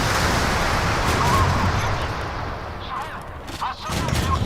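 Warship gunfire in the naval combat game Modern Warships, with USS Vella Gulf against RF Varyag, as a dense continuous roar of shots and blasts that eases off briefly, then swells again near the end, loud and close.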